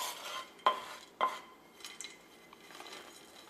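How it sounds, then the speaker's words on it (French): A spoon stirs Nutella brownie batter with chocolate, flour and walnuts in a bowl, with two sharp clinks against the rim and then soft, quiet scraping. "Et on mélange délicatement."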